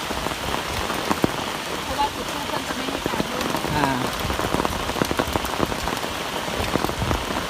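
Heavy rain pours down outdoors during a ceremony in Surin, Thailand, a dense continuous patter of drops striking surfaces close by, loud and steady throughout.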